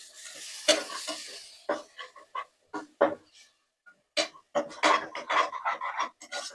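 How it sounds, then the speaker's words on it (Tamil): Ground tomato paste hits a hot pan for vegetable pulao, giving bursts of sizzling and spattering that flare up and die back irregularly, with a few sharper pops standing out at close range. "இப்போ வந்து நம்ம தக்காளி வந்து நான் அரைச்சி ஊற்றுறேன்."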